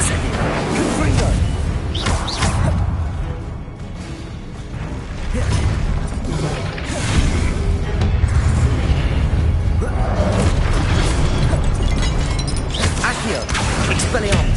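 Spells cast in combat in Hogwarts Legacy, including Expelliarmus, Accio, Incendio and Confringo: a steady stream of whooshes, pops and booming impacts, fairly loud and continuous, mixed with battle noise and voices.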